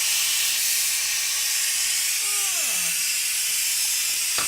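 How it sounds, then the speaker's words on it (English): Steam hisses loudly and steadily from a pressure cooker's release valve, a continuous close rush with a brief falling whine partway through. "this is where how we let out the steam"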